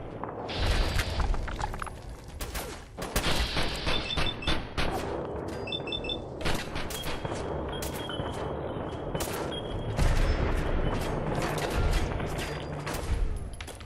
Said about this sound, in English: So many grenades flying everywhere with these fights.